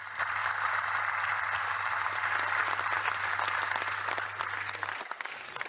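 A small group of UFC fighters seated together at a table applaud, a dense, steady clatter of clapping that carries on for several seconds before stopping abruptly, with a low hum beneath.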